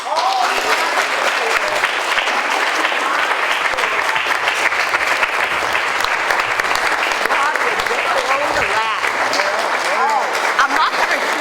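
A standing crowd at the Brookfield, New Hampshire Town Cane presentation gives loud, sustained applause for the honoree, with scattered voices and cheers mixed into the clapping throughout.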